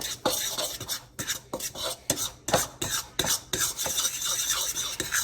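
A fork scraping and clinking against a bowl while dry cake ingredients are mixed, with quick, irregular strokes repeating steadily and close by.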